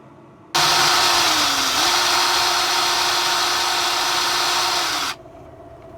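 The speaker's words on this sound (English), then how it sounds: "We're just going to drill a hole that's big enough to run the wire" A power drill bores a hole through the body of a 2022 Airstream Interstate 19 to run wiring, one steady close, loud whine for about four and a half seconds with a brief dip in pitch, then stopping.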